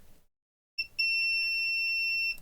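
A multimeter on continuity mode sounds a steady, high, clear beep for about a second and a half as its probes test the fuse of a Philips steam iron, heard close and alone.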